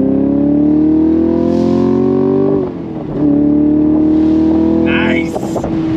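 A 2023 Chevrolet Camaro SS convertible accelerates hard in second gear, its V8 engine note climbing steadily, easing briefly at a shift, then pulling again with crackles near the end.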